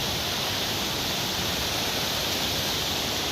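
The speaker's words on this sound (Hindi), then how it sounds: "ये दूसरा नाला आ गया है, लेकिन यहाँ पे पुल नहीं है" A mountain stream in the Sangla valley rushes steadily and loudly up close, a continuous broadband wash of water with no voices.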